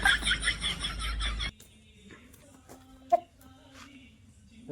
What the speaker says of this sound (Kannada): ಗೈಸ್ ಕೋಳಿಗೆ ಸ್ನಾನ ಮಾಡಿಸ್ತಾವ ಗೈಸ್.